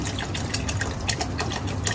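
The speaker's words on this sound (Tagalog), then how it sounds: "At hugasan ko lang din ang miswa" Misua noodles being washed in water, a close, continuous splashing and trickling of liquid with small irregular sloshes, and no talking.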